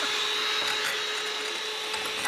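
Electric beaters whip cream for a cherry ripe mousse, giving a steady, fairly loud high-pitched mechanical whir that runs unbroken throughout with no talk over it.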